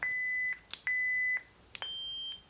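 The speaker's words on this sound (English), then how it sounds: "When you reach the top of the menu, you will get a different tone or beep." Three electronic beep tones, each steady and about half a second long, with short clicks between them; the last beep is higher in pitch.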